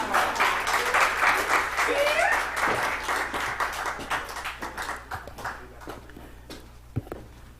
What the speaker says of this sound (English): give my brother a round of applause